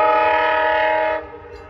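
Amtrak P371 leaving Holland Station in Michigan sounds a loud, steady multi-tone horn blast that cuts off after about a second, leaving a fading rumble.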